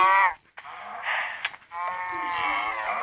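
Repeated low mooing from cows in the Minecraft video game, several overlapping calls close and fairly loud with brief gaps, without talk.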